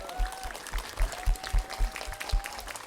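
A church congregation at a baptism during Mass claps for the two newly baptised and their godparents, with clapping fairly close and thin, irregular claps over a soft wash of room noise.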